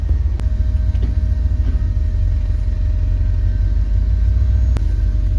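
Steady low rumble of a Chevrolet Silverado truck engine fitted with Holley Sniper fuel injection while driving, loud and continuous with a few brief clicks.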